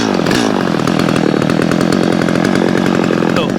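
A Stihl MS250 chainsaw idles at about 2,700 RPM after warming up, its engine giving a steady, loud, close putter with even rhythm throughout and no voices.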